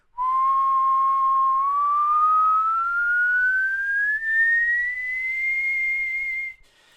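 A single clear whistle holds one steady tone, then slowly glides upward in pitch for several seconds, loud and alone.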